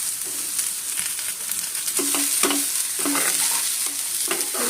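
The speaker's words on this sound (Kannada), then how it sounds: "ಎಲ್ಲ ಚೆನ್ನಾಗಿ ಫ್ರೈ ಮಾಡಿಕೊಂಡು" Grated coconut and spices stir-frying in a pan for a Malnad bamboo shoot dish, a steady close sizzle broken by repeated rhythmic spatula scrapes against the pan, no talking.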